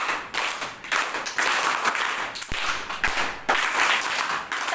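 Listeners in a storytelling session clapping in bursts, a group's hand claps rising and falling with brief pauses and a couple of sharper single thuds.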